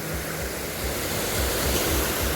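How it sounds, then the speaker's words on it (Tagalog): Strong water rushes at Mabanag Spring Resort in Tuboran, Mahayag, Zamboanga del Sur: a close, continuous, loud broadband roar with no voices over it. "Grabe ka kusugang tubig diri mga lodi"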